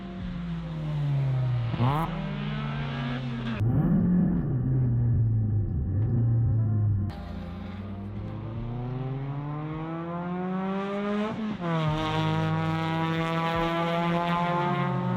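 Mazda Miata engine heard up close as the driver heel-toe downshifts, with sharp throttle blips sending the revs climbing and falling in several distinct sweeps over a steady engine drone.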